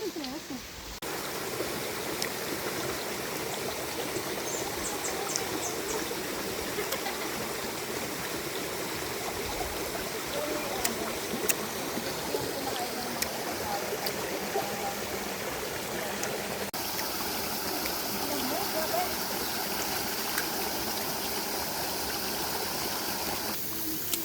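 Steady rushing of a flowing river stream on a mountain hike in Tanay, Rizal, constant and fairly close, with occasional voices faintly over the water.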